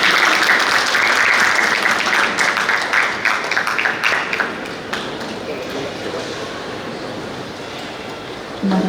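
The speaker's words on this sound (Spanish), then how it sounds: "Por favor, un aplauso." Audience applause at a university artistic presentation, dense clapping that is loud at first and slowly thins and fades over several seconds.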